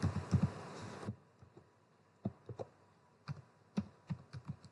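Computer keyboard typing while entering Python code, a brief dense burst of keystrokes followed by scattered single taps with pauses between them, close and fairly quiet.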